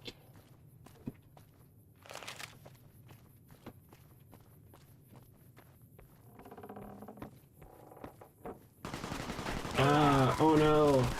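Gunfire in Fallout: New Vegas, with scattered sharp shots and short bursts among footsteps in a quiet stretch, followed by louder combat noise and a voice at the end.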